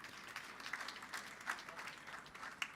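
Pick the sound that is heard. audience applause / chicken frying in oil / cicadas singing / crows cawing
audience applause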